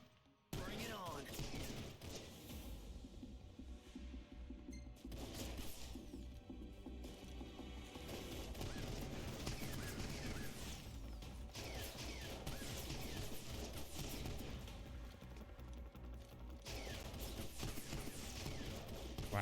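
Gunfire rattles through a Final Fantasy XV fight, repeated rapid shots and mechanical clatter layered over dense game music and effects, sustained for the whole stretch.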